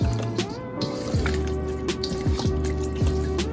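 Running water pours over salted food being rinsed in a kitchen, a steady stream with drips and splashes and a faint tone, continuous and close for a few seconds.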